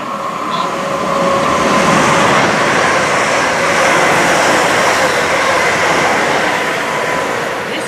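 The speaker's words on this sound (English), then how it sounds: "The next train to arrive at platform 5 is the 11:46 London Northwestern Railway service to Tring" A London Northwestern Railway train rolls into the platform with a steady, loud rumble and wheel noise that holds throughout, heard close at trackside.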